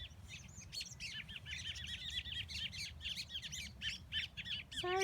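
Upset parent birds chirp and call close by near a rescued baby bird, quick bright repeated tweets in bursts over a low rumbling background, continuing without pause.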